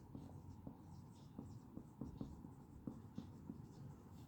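A pen drags across paper in short scratchy strokes, drawing a curve, with faint ticks and taps in a quiet room and no talk.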